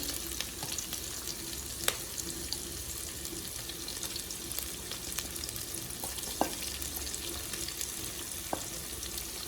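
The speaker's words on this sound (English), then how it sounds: "You don't want to burn this. Onions goes in." Onions frying in a pan, with a steady broadband sizzle running throughout, a few sharp clicks and light stirring scrapes, and faint running-water sounds nearby.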